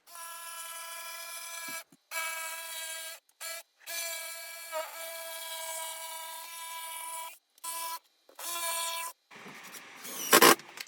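A new jigsaw cuts a board around a window in a workshop, its buzzing motor whine steady and close, broken by several short pauses between bursts of cutting, and ending with a rougher rasp.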